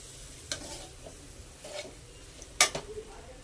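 Egg rice being stirred in a pan, a few scraping spoon strokes against the metal with a louder clack near the end over a low background sizzle, close and otherwise quiet.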